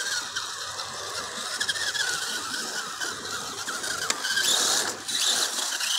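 A Carisma SCA-1E Coyote RC scale crawler on a 2S battery drives over rough rocky terrain, its electric motor giving a steady, close high-pitched whine layered with hissing, crunching scrapes from the tires and chassis on stone.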